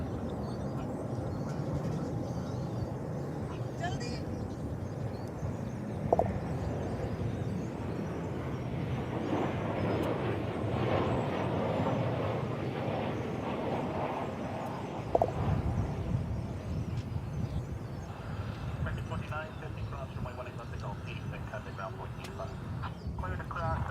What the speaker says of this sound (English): That was the flight from Colorado Springs, a 737-800.